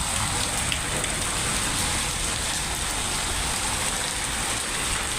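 Hail pours down across Punjab as a loud, unbroken roar of pelting ice striking surfaces close at hand, holding an even intensity throughout.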